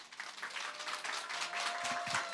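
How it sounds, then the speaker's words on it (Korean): Steady applause from a crowd at a parenting forum fills the whole stretch, a dense wash of many hands clapping without a break. "박수를 너무 많이 보내주셔가지고 네, 진심으로 감사 말씀드립니다."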